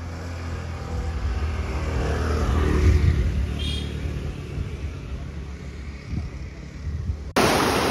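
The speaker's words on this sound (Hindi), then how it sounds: "लाइक छोटा सा वाटरफॉल है" A small waterfall pours into a little pool of water outdoors, giving a steady broadband rush of falling water that swells and eases slightly, with wind buffeting and a sudden louder burst right at the end.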